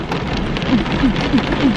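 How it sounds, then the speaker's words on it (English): Steady rain falling outside on a December day, a dense continuous patter close by with a few faint tonal chirps over it, no one speaking. "It's raining."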